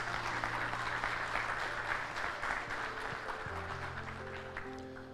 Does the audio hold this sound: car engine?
no